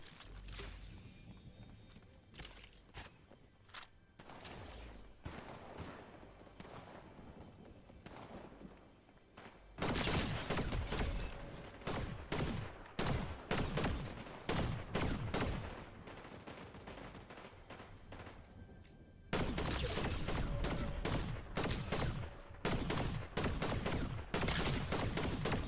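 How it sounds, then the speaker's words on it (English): Rapid gunfire in the Fortnite video game, bursts of shots crackling throughout, quieter and sparser at first, then loud, dense volleys from about ten seconds on with a brief lull before another heavy barrage. "Who's shooting me right now?"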